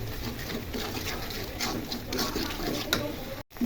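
Turmeric, chili, coriander, salt and cumin sautéing together in a pan make a continuous low sizzle, with light clinks and scrapes of stirring close up under faint background noise.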